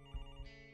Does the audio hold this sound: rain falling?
no